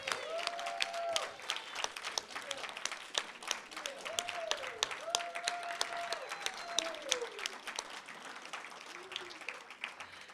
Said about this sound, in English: give Jeff Gibbons, Visual Arts Fellow, a round of applause for his exhibition.